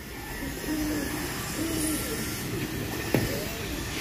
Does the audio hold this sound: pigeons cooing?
yes